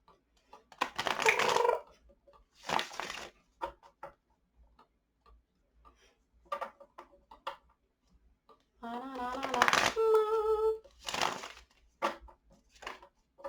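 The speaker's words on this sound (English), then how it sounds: "I don't usually have this much difficulty with this deck, like shuffling" A deck of cards is shuffled in several separate bursts of crisp, rapid riffling clicks with silent gaps between them, close to the mic, and a brief voiced sound is heard partway through.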